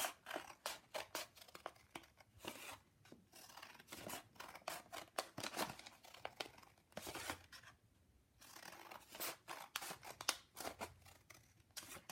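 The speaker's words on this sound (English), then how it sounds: "using scissors, we're going to cut from the fold up" Scissors snip through folded watercolor paper, cutting up from the fold, in quick repeated crisp strokes with brief pauses, close and fairly loud with no voices.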